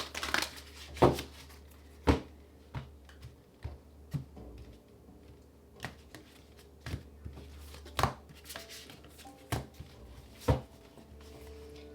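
Tarot cards being shuffled: a run of sharp, irregular riffling snaps and soft slaps, close and moderately loud, alone without talk.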